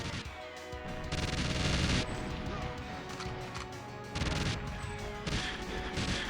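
Turret gunfire in the unreleased GoldenEye 007 remake for Xbox 360 comes in loud, sustained automatic bursts with sharp impacts and crashes, pausing and resuming in heavy waves under game music.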